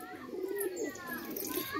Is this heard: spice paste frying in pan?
no